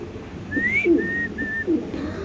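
White Bombay fancy pigeons at a large pigeon farm give a few soft coos, with thin whistle-like notes above, in a short burst against steady background noise.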